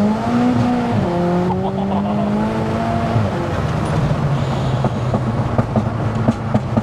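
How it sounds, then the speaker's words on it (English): A turbocharged MK5 Golf GTI with a big turbo, 515 bhp and 200,000 miles revs hard through second into third gear, heard from inside the car as a loud rising engine note that drops at the shift and then climbs again. "I'll do a second gear to like third gear for you see like how crazy it is."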